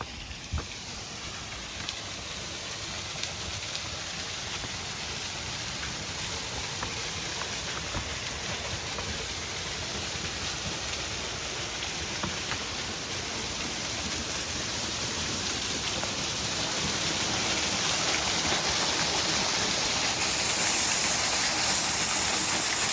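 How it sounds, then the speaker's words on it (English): A waterfall on Rock Creek Trail in Twin Falls, Idaho, gives off a continuous broad roar that grows slightly louder toward the end. "I wanted to show you this waterfall"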